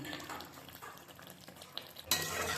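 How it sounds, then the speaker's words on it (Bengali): A spoon stirs green chili chicken in a pan after coriander leaves are sprinkled over, a quiet scraping with a soft sizzle, then a louder burst of hiss near the end. "এবার ধনে পাতাটা ছিটিয়ে নেড়ে চেড়ে নামিয়ে নেব"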